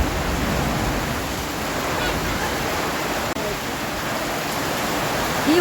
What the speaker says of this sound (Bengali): আচমকা প্রচণ্ড ঝড় বৃষ্টি শুরু হয়েছে।